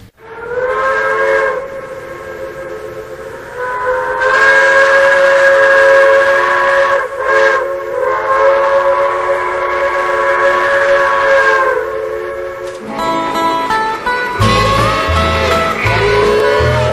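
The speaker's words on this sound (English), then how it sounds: "a forlorn train whistle off in the distance" A steam train whistle sounds loud and sustained for several seconds, with a breathy, hissing edge, then breaks off into rougher, mixed rumbling sounds.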